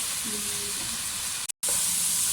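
Spice masala for vegetable pulao frying in a pot, a soft, steady sizzle and hiss at low volume that cuts out briefly in the middle before resuming.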